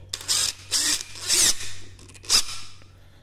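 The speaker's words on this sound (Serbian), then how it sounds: "5 ampera baterija koja je puna u ovu građevinsku gredu sa nasadnim ključem, da vidimo šta kaže." DeWalt 887 cordless impact driver on a full 5 Ah battery, fitted with a socket and driving into a construction beam; four loud whirring bursts of about half a second each, close by, with short pauses between them and no talk.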